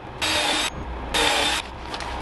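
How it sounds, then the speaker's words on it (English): Two short bursts of a power drill boring pilot holes into the wood of a bonsai box, each about half a second, with a brief pause between them. "So let's go ahead and drill a couple of these pre-holes in here."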